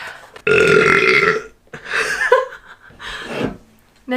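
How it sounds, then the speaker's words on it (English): A woman lets out a long, deep, loud burp up close, followed by a couple of shorter, weaker belches with breathy pauses between them. "So burp away."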